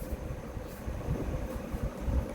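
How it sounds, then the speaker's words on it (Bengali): Interior of the Ranchi–Howrah Shatabdi Express at Muri Junction, a steady low rumble of the train with faint clanks, no voices. "এখানে নির্দিষ্ট সময় ঢুকিয়েছে আমাদের ট্রেন"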